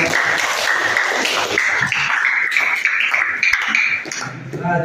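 A classroom of students applauding together in a guidance lesson, a dense sustained patter of many hands close by, with a voice speaking over it near the end.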